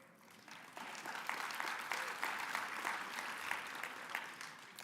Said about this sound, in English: you clapped, it almost covered it up